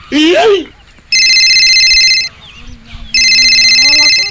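A mobile phone rings with an incoming call: two loud bursts of electronic ringtone about a second long, separated by a short pause, after a brief voice at the start.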